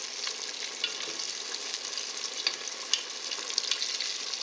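Hush puppies frying in hot oil, turned now and then with a spatula: a steady, dense sizzle with scattered small pops and faint scraping ticks, close and fairly quiet, with no talking.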